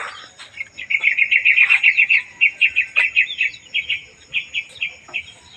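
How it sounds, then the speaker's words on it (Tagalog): Birds sing in quick repeated chirping phrases, bright and fairly close, on a mountain in the morning, over a quiet background with faint insect-like buzzing. "Morning ng mga ibon ang maririnig."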